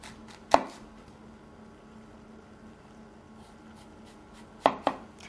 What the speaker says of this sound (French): Donc là, on coupe.